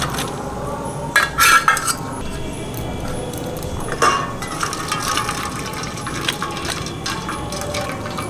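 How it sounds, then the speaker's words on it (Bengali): Boiled banana blossom drained of its water in a home kitchen: metal pot and utensil clinks and a couple of sharper clanks over a steady wash of pouring, splashing water, with no talking. "মোচা সিদ্ধ হয়ে গেছে ঢেলে দেব জল ঝরিয়ে নিলাম"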